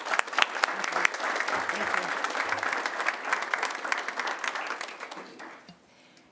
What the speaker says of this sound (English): if everybody would just give them one final round of applause